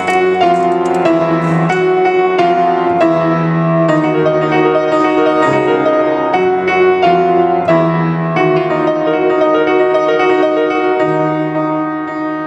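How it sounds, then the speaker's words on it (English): A piano played from sheet music: a steady, loud run of sustained chords and melody notes that continues throughout with no talking. "let's go to the piano and see if this is a pile of nonsense"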